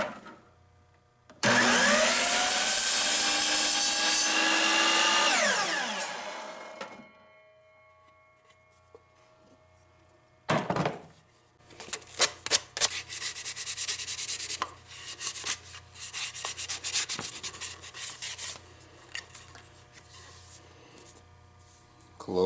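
A wooden tool handle end being power-sanded, loud abrasive whine for several seconds, then quiet, followed by a sequence of scraping and rubbing bursts of varying strength.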